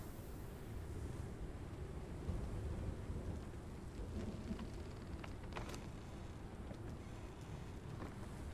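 Stormy weather in Conan Exiles, with steady wind and rain washing over everything and a few faint crackling, thunder-like rumbles, distant and fairly quiet.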